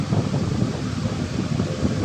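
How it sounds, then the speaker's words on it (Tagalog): Strong wind blasting against the microphone, a heavy continuous rumble with gusting swells, close and loud, no speech. "Tingnan nyo guys, ang lakas ng hangin dito."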